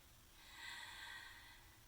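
A pregnant woman breathes in slowly during a stretching and foam rolling session, a single soft, airy inhale that swells and fades over about a second, faint and close.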